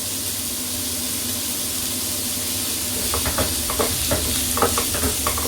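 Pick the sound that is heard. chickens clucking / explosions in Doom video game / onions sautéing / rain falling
onions sautéing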